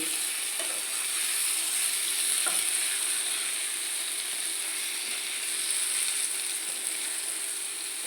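A country-chicken egg fry stirred in a pan gives a steady, bright sizzle that continues throughout, with a few soft scraping stirs of the utensil and no talking.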